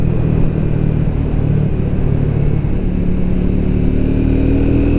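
A Triumph 400 motorcycle engine hums steadily and loudly up close while the bike is ridden through a set of bends, a smooth continuous drone with slight pitch shifts and no talk.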